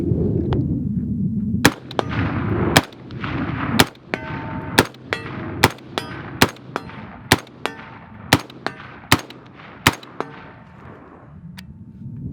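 A CMMG MK47 rifle firing 7.62x39 rounds outdoors at a target about 75 yards away, with a string of sharp, loud single shots in an irregular rhythm, each followed by a short ringing tail.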